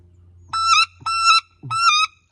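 Three loud, nasal squealing calls blown on a homemade wood duck call, each a rising-then-falling whistle-like squeal of about a third of a second, close and clear with short pauses between.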